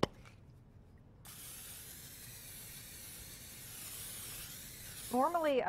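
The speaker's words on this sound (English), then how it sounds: "I wanna spray my casserole dish really well with cooking spray." Steady hiss of cooking spray being sprayed into a casserole dish, close and continuous for several seconds, with a brief clatter near the end.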